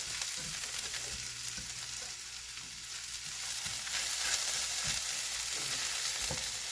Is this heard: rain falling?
no